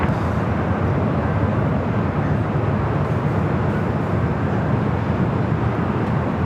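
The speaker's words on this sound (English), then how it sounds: "Which is the flight coming in from Fort Lauderdale. It's an A320." A JetBlue Airbus A320 arriving at LAX gives off a loud, steady, broadband jet roar that holds constant throughout, with no voices.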